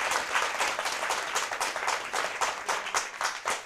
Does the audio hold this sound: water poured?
no